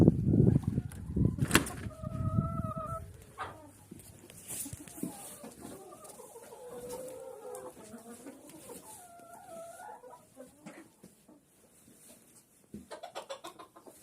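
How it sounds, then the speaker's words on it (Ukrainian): Hens cluck and murmur inside a coop in snowy, freezing winter weather, with a few louder squawks early on and a steady run of soft clucking throughout. "Кури всі в курникові, не хочуть виходити."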